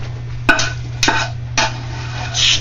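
Taco meat spooned into a casserole dish, with three separate scraping clinks of a spoon against the dish, spaced about half a second apart, over a steady low hum.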